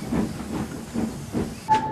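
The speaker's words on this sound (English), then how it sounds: "That night, it grew foggy again as Douglas shunted his train." Steam locomotive shunting a train on a foggy night near the docks, giving a steady low hiss and chuff throughout with faint rhythmic pulses, ending in a brief sharp whistle-like tone.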